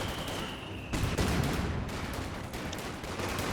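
Enemy gunfire in Company of Heroes 2, a dense, continuous crackle of rifle and machine-gun fire that swells louder partway through and keeps rattling at a steady mid distance with no talk.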